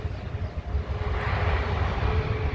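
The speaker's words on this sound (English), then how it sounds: "No, it's an A350, that one." Engines of an Airbus A350 airliner at London Heathrow roar steadily and loudly, a broad continuous rumble with no voices.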